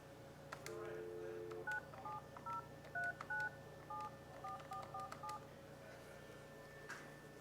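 Touch-tone telephone dialing in a fabrication shop's office as a call is placed: a brief steady tone, then a quick series of about a dozen short DTMF beeps in irregular clusters over a low steady hum, with no talking.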